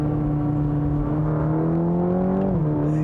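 A 2020 Cadillac CT4-V, a 325 HP rear-wheel-drive small sport sedan, hums with a steady engine drone from inside the cabin, its pitch climbing slowly before dropping as a gear shifts; no distinct exhaust pops stand out.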